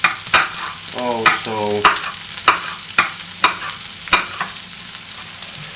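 Onions frying in a pan, with repeated stirring scrapes and clacks over a steady sizzle; a short tonal squeak appears midway, and a single word is spoken.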